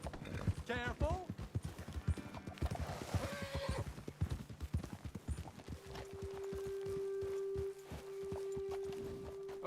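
Horse hooves clip-clop in a steady walking rhythm in the Red Dead Redemption western game, with whinnies and speech over the start and a sustained tonal hum later in the stretch.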